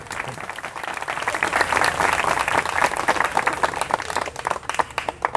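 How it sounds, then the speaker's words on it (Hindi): An audience at a talk at the Sri Tota Gopinath temple in Jagannath Puri bursts into steady, enthusiastic clapping that swells and holds for several seconds. "ताली बजा दो,"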